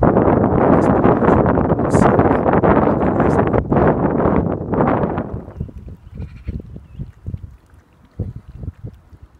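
Loud, broadband wind buffeting the microphone on a riverbank while lure fishing for perch, first half, then easing to lighter gusts with scattered soft knocks and rustles.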